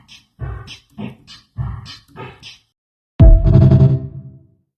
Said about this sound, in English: Drum kit sounds like this.